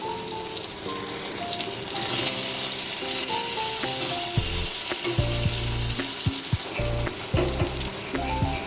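Okra and potato frying in oil with turmeric just added, a steady loud sizzle throughout with intermittent clinks and stirring scrapes, close up and with no talking.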